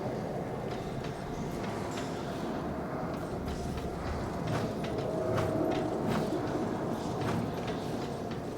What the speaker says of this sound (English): so we can get on the train